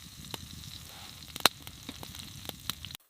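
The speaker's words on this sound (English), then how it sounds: "The sound of sizzling beef drowned out even the howling wind" Beef sizzling on a hot pan over a stove inside a tent during a −39°C winter storm, a steady soft crackle with a few sharp pops.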